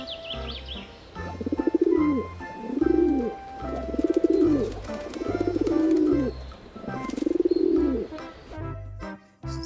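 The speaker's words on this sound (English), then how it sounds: "This is pigeon." A pigeon coos in repeated low, throaty phrases, about five rolling coos in a steady rhythm, close and clear with faint chirps behind and no talking.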